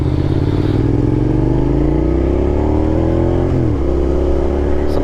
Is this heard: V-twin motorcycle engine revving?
yes